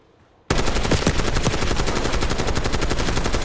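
Sustained automatic gunfire in Black Ops 6 multiplayer Gunfight, a loud, dense, rapid stream of shots that bursts in abruptly after a brief quiet moment and continues without pause.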